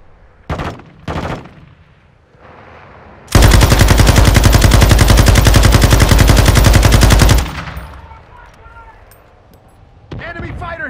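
A light machine gun fires in a Call of Duty Modern Warfare II Ground War match, one loud, close, sustained burst of rapid rounds lasting about four seconds, with game voice callouts and scattered battle noise around it.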